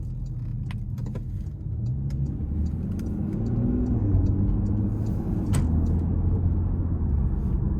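A 2018 Porsche Panamera Sport Turismo 4S with a 2.9-litre twin-turbo V6 runs steadily with a low, throaty rumble while driving, rising slightly midway, with faint metallic jingles and clicks on top.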